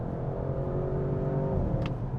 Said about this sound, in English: this does also have the sport exhaust system, which definitely helps the sound a bit